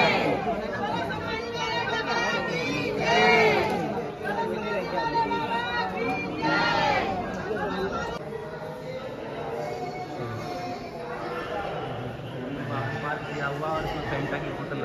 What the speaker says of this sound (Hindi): काफी भीड़ लगी है यहाँ पे भी।